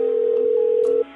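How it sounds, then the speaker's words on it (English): A single steady telephone tone holds for about a second and then cuts off, heard alone as a 911 emergency call is placed. "Tom makes an emergency phone call."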